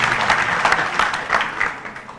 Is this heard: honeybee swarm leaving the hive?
no